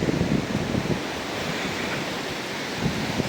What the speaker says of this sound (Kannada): ಈ ಕಡೆ ಎಲ್ಲ ಅಲೆ ಬರ್ತಾ ಇದೆ ಇಲ್ಲಿ ಫೋರ್ಸಾಗಿ